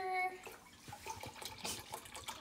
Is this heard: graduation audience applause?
no